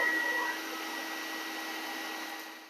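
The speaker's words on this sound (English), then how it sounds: "Just vacuum up some of this loose ground cover." A small vacuum drawing loose ground cover off a model railroad layout, a steady whining hum held throughout at moderate level, alone without talk.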